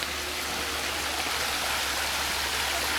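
Rainwater running off in a stream after a heavy overnight rain, a steady broadband rush of flowing water that stays even and continuous throughout, with no voices.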